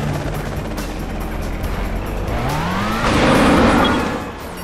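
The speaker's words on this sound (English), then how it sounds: "you must eliminate those helicopters if we are to make a safe extraction." Helicopters in the James Bond 007: Nightfire game roar with a rising engine whine and thumping rotor, the sound growing louder toward the end, with no talk.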